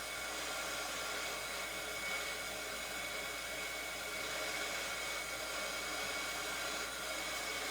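A heat tool warms craft material until it melts for a handmade thank-you card, producing a steady, close, continuous blowing whir that holds even throughout with no talking.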